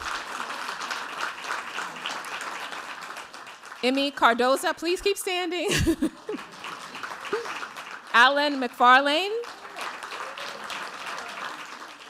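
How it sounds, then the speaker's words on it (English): Steady audience applause fills a hall at a faculty award ceremony, continuing throughout while an announcer speaks over it on a microphone. "give them a round of applause for their outstanding work"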